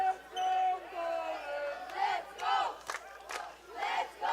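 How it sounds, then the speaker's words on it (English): A football crowd at a World Cup match between Paraguay and Poland chants "let's go Poland" in loud, rhythmic bursts that rise and fall, with swelling cheers and a wide stadium echo. "The cry from the crowd, let's go Poland."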